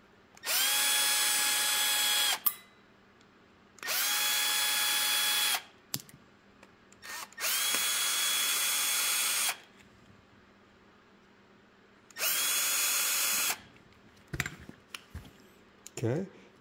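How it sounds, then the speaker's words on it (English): A power drill backs screws out of a Keihin CVK 32 carburetor from a Ural during a deep clean, running in four loud bursts of about two seconds each, separated by pauses with small clicks and handling noise. "And then you can easily remove the screw, okay?"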